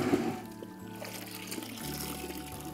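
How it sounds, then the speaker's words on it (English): Water is poured over a canvas to soak it before painting in an artist's studio. The pouring is a faint, continuous trickle, with a low steady hum underneath. "I'll prime the canvas by soaking the canvas in water first"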